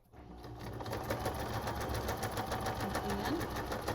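Sewing machine running a straight stitch on a paper ephemera holder, a close, fast and even mechanical chatter that rises in from quiet and keeps a steady pulse throughout.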